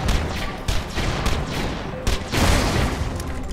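Several loud pistol shots in Borderlands: The Pre-Sequel's Claptastic Voyage DLC go off in quick succession over a busy, rumbling background, with echoing booms between shots.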